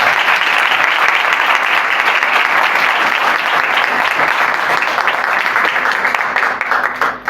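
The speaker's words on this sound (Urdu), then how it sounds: "تو خدا کے پاک روح کے لیے زوردار تالیاں بجائیں" A church congregation at a Sunday sermon breaks into loud, sustained applause, a thick wash of clapping that fades slightly at the very end.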